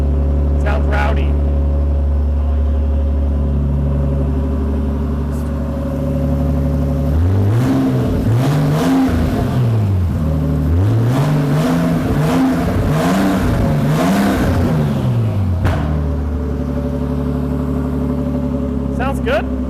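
A straight-piped Nissan R34 Skyline engine idles with a loud, rough low rumble, then revs repeatedly in sharp rising-and-falling blips through the middle, settling back to idle, with people talking faintly.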